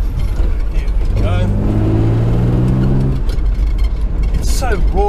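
A 1964 Aston Martin DB5 in Silver Birch paint roars as it drives, its engine climbing in pitch through a rev before settling, with mechanical rattles and someone speaking over it.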